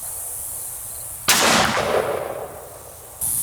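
A single loud, sharp report from a 300 grain Underwood hollow point round fired at a metal dumpster outdoors, followed by a fading, ringing decay over a faint steady hiss.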